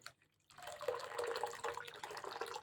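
Water poured into a cup of curd while making buttermilk, a soft trickling, splashing pour that starts after a brief quiet moment and continues steadily, fairly faint and close.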